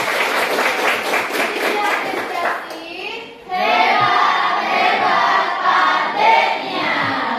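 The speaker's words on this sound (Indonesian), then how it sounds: "Tepuk tangan buat Kak Tina" Children in a classroom clap for Kak Tina, rhythmic unison clapping at first that gives way to excited young voices shouting and chattering over scattered claps.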